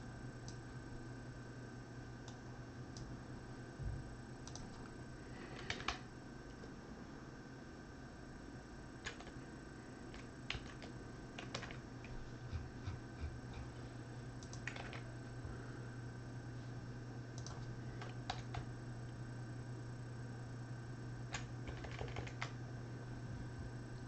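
Computer keyboard typing while a spreadsheet is edited: quiet, scattered key clicks in short bursts over a steady low electrical hum, with no talking.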